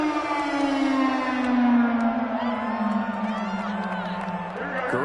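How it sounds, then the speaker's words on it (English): A packed Seattle stadium crowd at a football game roars loudly and continuously, a deafening, steady wall of noise with a sustained rising-and-falling tone running through it for the whole stretch. "Combined with this crowd noise, makes it very difficult to run offense."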